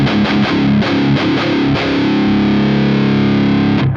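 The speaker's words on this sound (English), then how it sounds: "it really brings in that nice, nasty distortion" An electric guitar through Super Overdrive distortion plays a few chugging, palm-muted notes and then lets a thick, saturated chord ring out, loud and compressed.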